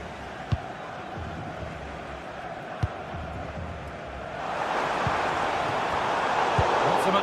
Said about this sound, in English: just listen to this crowd. They want a bit more